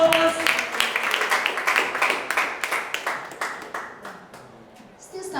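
A round of clapping from the audience at an interschool debate competition, loud and dense at first, then gradually thinning and fading.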